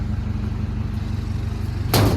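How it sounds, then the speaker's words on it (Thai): A farm tractor engine runs steadily while towing a trailer at a sugar mill, with a constant low throbbing drone, joined near the end by a brief loud hiss or clatter. "งานรถไถลากจูงพี่น้อง"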